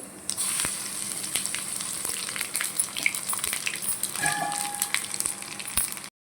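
Tempering seeds and garlic fry in oil in a kadai for a snake gourd yogurt chutney, giving a close, continuous hiss dotted with sharp pops and crackles for about six seconds, with no talk.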